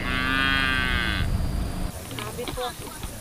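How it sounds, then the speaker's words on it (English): Cattle near a village dam moo loudly in a long, drawn-out call, followed by fainter lowing and outdoor background noise. "We are accorded a rousing welcome by these cattle"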